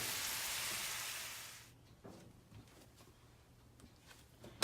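Meat sautéing in a pan for Asian empanadas gives a loud, dense sizzle for the first couple of seconds, then drops to a quieter crackle with scattered pops and spits.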